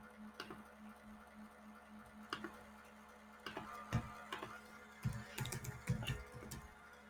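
Computer keyboard keys tapped in short uneven bursts, quiet and close, typing out a Python 3 command with scattered clicks and a few firmer keystrokes, no voices.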